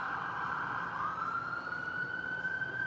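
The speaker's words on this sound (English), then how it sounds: "Let's let that ambulance go by." An ambulance siren wails steadily as the vehicle passes, its tone sliding slightly in pitch, moderately loud over faint traffic rumble.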